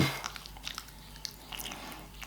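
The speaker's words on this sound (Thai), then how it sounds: "อืมคือผมเคี้ยวหนามทุเรียน" Someone bites and chews the boiled spines of a mini durian close to the microphone, giving faint, scattered crunchy clicks and squishy mouth sounds with no talking.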